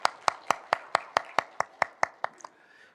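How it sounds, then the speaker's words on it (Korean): A church congregation claps during Sunday worship with about a dozen evenly spaced, crisp claps in a steady rhythm that slow and fade out near the end. "하나님께 영광의 박수를 드리겠습니다."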